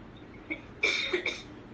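A single person coughs indoors during a gathering, a short burst followed by a second, weaker cough, moderately close and heard without other talk.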